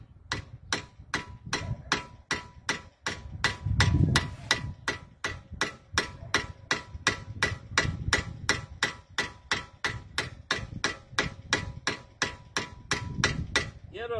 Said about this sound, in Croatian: Udarate čekićom lagano tu.